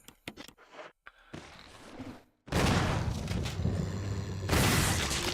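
Gunshots fired at zombies in the Resident Evil REmake on GameCube, a few sharp isolated bangs early, then a loud sustained barrage of blasts and rumbling impacts that swells again near the end.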